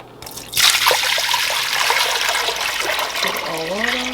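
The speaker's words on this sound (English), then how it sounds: "Put our water." Water pours steadily into a cooking pot on a home stove while milk, cinnamon sticks, sugar and vanilla are readied, a continuous close trickle and splash that starts abruptly and runs throughout, with a brief voice near the end.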